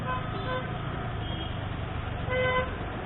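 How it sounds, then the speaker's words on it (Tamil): Congested road traffic heard from a KTM 390 Adventure motorbike fitted with a saddle kit, with a steady engine and road rumble and a few short car horn toots sounding out, one louder honk near the end. "டிராஃபிக்கு ஐயோ பயங்கரமாக இருக்குது டிராஃபிக்கு."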